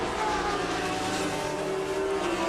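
Race cars at Magny Cours, including a Kramer Lola, a Pescarolo-run Courage and a turbo Peugeot, roar past in a continuous loud engine wash with a rising high whine.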